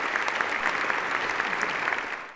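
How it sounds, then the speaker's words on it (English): Sustained applause fills the House chamber of the US Capitol as a congresswoman enters, a dense, steady clapping from a crowd of colleagues that holds at an even level before tapering off at the end. "she was greeted with a round of applause and kind words from her colleagues"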